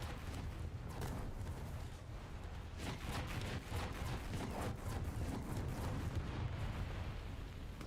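Heavy artillery fire and explosions roll across a War Thunder tank match with a Centurion, a sustained low rumble punctuated by repeated booming impacts, loud and unbroken throughout.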